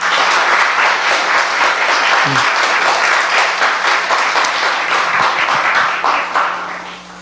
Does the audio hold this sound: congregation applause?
yes